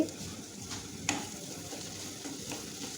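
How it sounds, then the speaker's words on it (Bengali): Olive pickle being stirred in mustard oil in a pan over medium heat, a soft continuous sizzle with scraping stir strokes and a sharper clink of utensil against the pan near the start, close and fairly quiet. "এখন নেড়ে চেড়ে দিচ্ছি"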